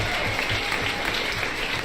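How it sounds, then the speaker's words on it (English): A livestream audience gives a sustained round of applause with scattered cheering, a dense, even clatter of many clapping hands that holds steady and fairly loud for the whole stretch. "We're getting a lot of cheering in the back. We're getting a lot of round of applause."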